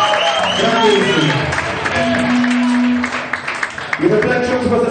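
Crowd applause at a live concert at the Zsa Zsa Mon Amour club, a sustained wash of clapping and cheering heard under someone talking over it, swelling and fading across the few seconds.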